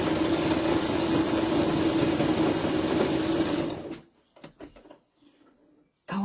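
A sewing machine stitches down a piece of fabric, running in a loud, steady mechanical whir that stops abruptly, followed by a few faint clicks and handling noises.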